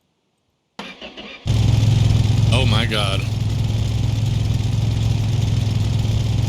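An engine fitted with an aftermarket demolition derby exhaust cranks briefly, catches and roars into a loud, steady, rumbling idle, with a short exclamation from a man over it.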